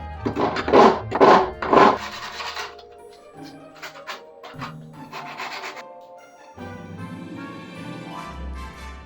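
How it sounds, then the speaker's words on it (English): Rhythmic rasping strokes of a file on wood, then softer steady sanding and rubbing to clean up a cut cat door hole, close up with no talking. "A little filing and a little bit of sanding to clean up the hole."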